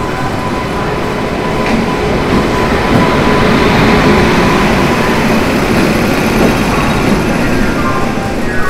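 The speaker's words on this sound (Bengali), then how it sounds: "রাঁচি থেকে আসছে ট্রেনটা" The Howrah Ranchi Intercity Express rumbles along the rails with a steady, loud roar and faint clickety-clack of wagons, rising slightly in the middle, with no voices.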